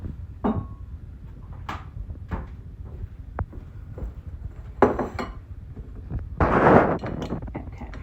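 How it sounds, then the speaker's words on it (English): Bowls and dishes being handled in a home kitchen while making butter, scattered clinks, knocks and thuds of crockery, a cupboard or drawer being opened, and a rustling clatter near the end, close and moderately loud, no talking. "In fact, I'm going to get a bigger bowl."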